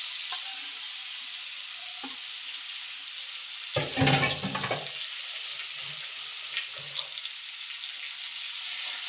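Chopped, cooked eggplant being fried in a pan for bharta, a steady close sizzle with a louder burst of stirring and clatter around the middle, then the frying hiss continuing alone.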